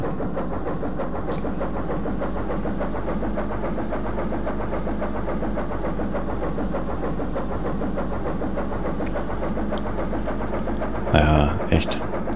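A ship's engine in the Amiga simulation game Ports of Call, heard as a steady, loud, continuous low drone with a brief burst near the end.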